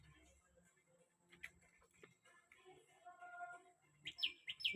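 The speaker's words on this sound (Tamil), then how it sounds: "அங்கே ஒரு குருவி லைட்டாக தான் கத்திச்சு." A sparrow chirps softly in a few quick bursts near the end, standing out over quiet, faint background noise.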